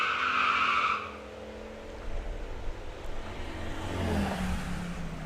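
A Jeep and a Supra at a drag strip: a car engine revs and roars, then tires squeal and engines drone in the distance, loud at first and then fading to a steady rumble.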